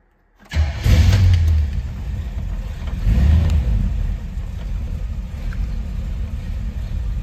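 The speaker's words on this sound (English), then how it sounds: "Let's go fire this Chevy up." A 1958 Chevrolet Biscayne four-door with a 350 cubic inch V8 cranks and fires up, then revs loudly and settles into a steady rumbling idle, heard close with no talking.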